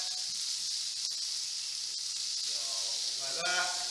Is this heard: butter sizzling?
yes